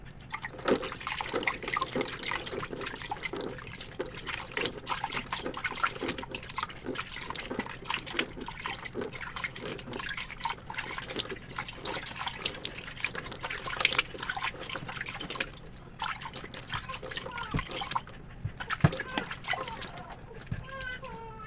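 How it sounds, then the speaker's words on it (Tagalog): Water splashes and trickles steadily as a face is rinsed after cleansing, a continuous close wet patter with small drips, while someone speaks over it. "para magbanlaw na tayo"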